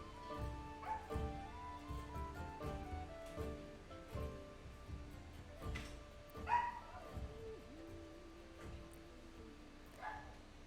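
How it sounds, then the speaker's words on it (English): A dog barks and yips intermittently in the background, moderately distant, under the music and ambient sound of the Dragon Age: Origins game, with a few louder barks standing out. "Sorry about the dog in the background."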